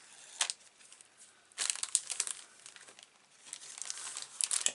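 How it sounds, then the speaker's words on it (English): Tape being peeled off paper during a notebook craft project, close and crisp, with crinkly tearing bursts in several spurts and brief pauses between them. "Just remove your tape."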